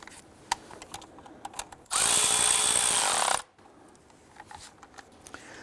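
A power tool runs a 13mm bolt down on the back of a 4.7L V8 valve cover on a 1999-2004 Jeep Grand Cherokee, giving one loud, steady whir of about a second and a half, with quiet clicks of tool handling before and after.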